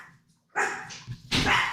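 A dog gives two sharp, loud barks close by, with a short pause between them after a moment of near silence.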